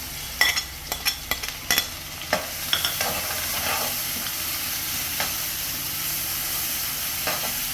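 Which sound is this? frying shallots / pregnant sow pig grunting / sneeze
frying shallots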